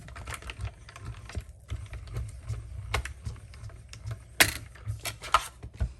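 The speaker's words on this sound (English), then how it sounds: "let's get our mini Stampin' Cut and Emboss machine. And we're going to die cut this" A Stampin' Up mini Cut and Emboss machine cranks a paper sentiment through its die plates, giving a steady low rumble broken by close, sharp clicks and ratchet-like taps for several seconds, with no talking.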